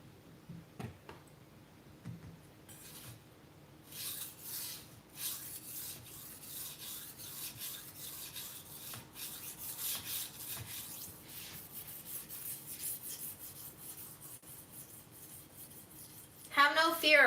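A cheap kitchen knife is drawn against a solid metal sharpening tool in repeated rasping strokes, quiet and close. The scraping comes in short irregular bursts, and a louder scrape rises at the very end.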